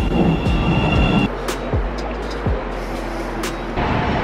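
A Chicago Red Line train rumbles along the track with steady low roar, brief squeals and a few sharp rattling hits from the wheels, close and loud with no talk.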